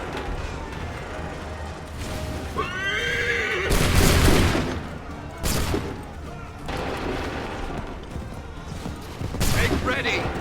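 Musket volleys crack out in Assassin's Creed 3: several loud, broad bursts of gunfire in quick succession, mixed with horses whinnying and a busy battlefield din.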